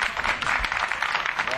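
Applause from an audience at a poetry recital, a steady crowd of hand claps that fills the short stretch evenly at moderate loudness with no one speaking.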